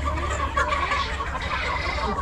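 A crowded flock of ailing farm chickens clucks and squawks continuously in a Bangladeshi poultry shed, close and busy with no one talking.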